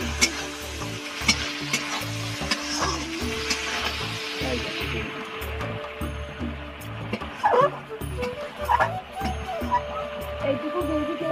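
Prawns frying and being stirred in a pan while cooking biryani, a steady sizzle with scraping stirs throughout; a dog barks a few times in the background.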